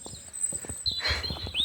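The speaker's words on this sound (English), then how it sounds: "It's the sound of wellies on road." Wellington boots tread on a country road in a soft, even walking rhythm of close footsteps, with birds chirping high and thin in the background.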